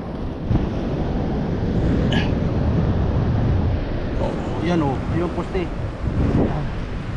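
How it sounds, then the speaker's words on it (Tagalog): Steady roar of ocean waves and wind at Pacifica Pier washing over the microphone, continuous and loud, with faint higher sounds breaking through now and then. "Kaso malakas ang alon."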